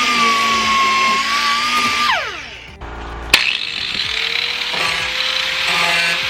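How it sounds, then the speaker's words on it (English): A power sander grinds across the bare metal of a car body panel being prepped for body filler, running steadily and loudly, with a brief dip and a sharp knock midway before resuming. "Now I'm gonna sand an area a little bigger than where I'm gonna put the bondo."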